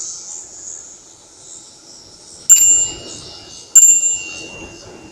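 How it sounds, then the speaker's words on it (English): A Trek bicycle bell rings twice outdoors, two bright dings about a second apart over quiet background noise with insects chirping. "So I'm gonna buzz this guy with my bell."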